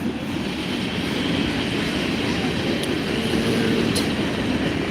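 A train rolling through a residential part of Tacoma, a loud, steady low rumble of wheels on rail holding for several seconds, with a couple of faint high clicks on top.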